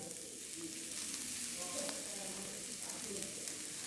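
Vermicelli being added and stirred into a frying pan with raisins for semiya upma, giving a quiet, even sizzle with soft stirring movement and a faint voice in the background.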